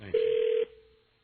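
A single telephone ring tone, one steady electronic buzz heard on a call as it rings through to voicemail, cutting off after about half a second and leaving a faint trailing hum.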